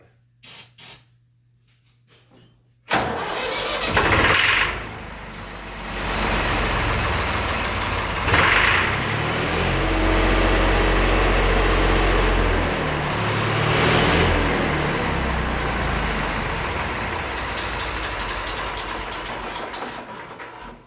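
A Case 1194 tractor engine, newly reassembled and smoking as it takes fuel, cranks after a short silence and bursts into a loud, close, rough running roar that holds with a deep rumble and uneven surges.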